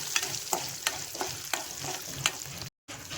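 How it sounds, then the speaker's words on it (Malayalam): Grated coconut roasts and sizzles in a pan for a chicken dish while a spoon stirs it in quick, regular scrapes close by, with a brief dropout near the end. "നമുക്ക് തേങ്ങ വറുത്തിട്ട് ചിക്കനിലേക്ക് ആഡ് ചെയ്യാം ഗൈസ്."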